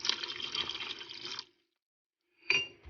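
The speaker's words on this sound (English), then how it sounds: "So now I'm going to add in the red wine." Red wine poured into a Cuban beef stew (carne con papas) with potatoes, a steady close liquid stream for about a second and a half, silence, then a brief second splash.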